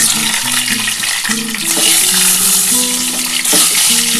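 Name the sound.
egg frying in hot oil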